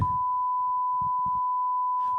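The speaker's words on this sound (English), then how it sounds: "Say it and we'll bleep it out." A steady, high-pitched censor bleep lasts about two seconds on a podcast, covering profanity while muffled talking voices run beneath it.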